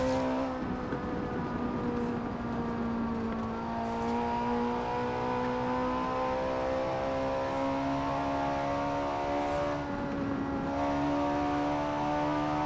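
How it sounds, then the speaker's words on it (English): A Ferrari 458 Italia in the Forza Horizon 4 racing game revs hard and loud, its high engine note climbing and falling through sustained pulls, with brief dips around gear changes. "This is just a nice, aggressive, what you would expect Ferrari sound to be like."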